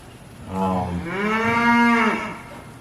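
A cow moos near a cabin porch, one long, drawn-out low call that rises and holds, fairly close and clear over quiet outdoor background.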